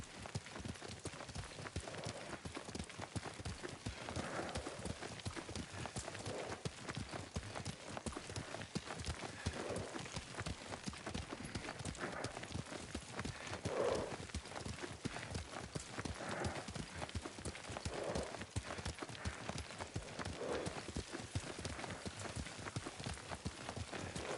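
Rapid, steady galloping horse hoofbeats in Ghost of Tsushima run continuously at close range, with a busy outdoor ambience underneath.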